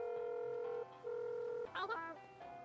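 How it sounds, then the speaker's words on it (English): A phone call is dialed in the video game Dave the Diver: steady electronic tones in short segments, then a brief warbling chirp, and a final tone, all clean and synthetic with no talking. "Oh, we can make the phone call to Ellie right now."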